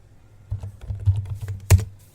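Brief, close keyboard typing: a few soft key taps, then one sharper keystroke near the end.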